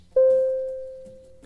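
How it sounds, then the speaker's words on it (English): Red stop signal alert chime in the TubeSim train simulator game: a single clean electronic tone strikes once and decays slowly over about a second, alone over faint background. "The signal alert system sounds like this."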